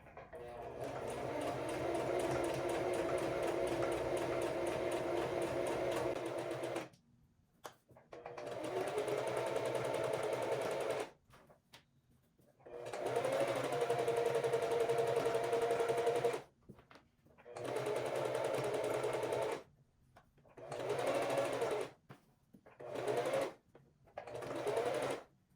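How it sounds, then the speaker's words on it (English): An electric sewing machine runs a basting stitch along a dress seam allowance, whirring in several bursts of steady stitching separated by short silent pauses. "I'm just going to go ahead and sew my basting stitch on my seam allowance"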